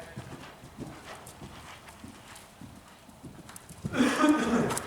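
Hooves of a cantering horse thud in a steady rhythmic beat in an arena, growing louder near the end, with a trainer's voice faintly heard.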